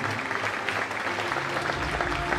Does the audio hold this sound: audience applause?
yes